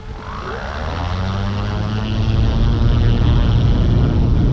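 World's first commercial electric plane rolling down runway 21 for takeoff, a loud steady motor and propeller drone with a rising whine as power builds, close and continuous with no talk.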